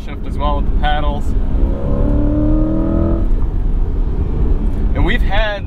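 A 2024 Chevrolet Corvette E-Ray hybrid, with a front axle electric motor and 8-speed dual clutch, accelerates hard on a track, its loud steady engine roar rising in pitch while a voice talks briefly over it.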